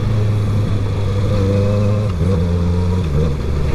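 Honda CB650R motorcycle engine running steadily at low RPM while the rider shifts up with a quickshifter, producing a loud continuous drone with a brief pitch drop at each gear change, no speech.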